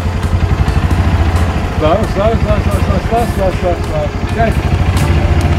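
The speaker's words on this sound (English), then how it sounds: "Keep it in low gear, give it some gas, go." A small engine running in low gear and pulling steadily, a constant low rumble with faint harmonics throughout, loud and close, while people talk over it.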